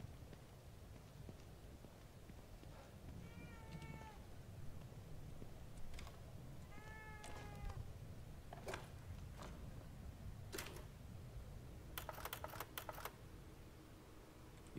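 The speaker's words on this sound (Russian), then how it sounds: "Сраная кошка." A cat meows in the horror video game The Evil Within 2. Two short, faint meows sound a few seconds apart, amid quiet ambience, soft footsteps and sharp clicking taps.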